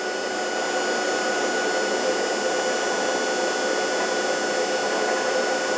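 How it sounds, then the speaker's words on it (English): A generator running steadily under a 500 watt load, a continuous loud droning hum with a whining tone that holds constant throughout, with no voices. "I can bring the generator up to spec, right? So I'm going to bring it up to the RPM."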